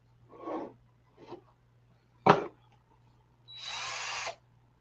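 A cordless screwdriver whirs in short bursts at a home table, two brief spins, a sharp clack, then a longer steady whine, with a faint low hum beneath and quiet gaps between.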